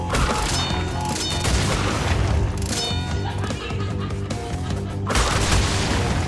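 Crash Bandicoot game explosions go off as a string of loud, booming bursts and crashes over busy game sound. The biggest blast hits near the end.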